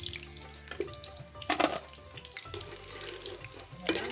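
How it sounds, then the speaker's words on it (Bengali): Chili chicken frying in a pan gives off a crackling sizzle, with louder spitting bursts and a few clinks standing out above a low background hum. "গরম গরম লাল লাল চিকেন ফ্রাই"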